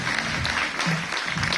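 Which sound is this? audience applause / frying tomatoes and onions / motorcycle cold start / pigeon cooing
audience applause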